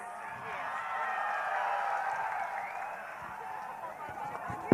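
Audience applause for the top 18 contestants at the Miss Kut 2022 beauty pageant, a steady crowd clapping sustained at moderate level for several seconds, with a faint crowd murmur underneath.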